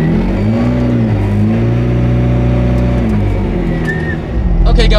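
A McLaren P1 GTR race car engine revs steadily from inside the cabin, its deep droning tone rising and falling in pitch as voices talk over it.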